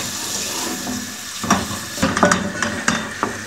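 Onions fry in ghee for an aloo methi sabzi, hissing steadily in the pan while a spoon stirs and scrapes them in several close, uneven bursts.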